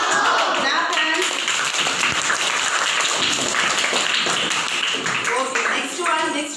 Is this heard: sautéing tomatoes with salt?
no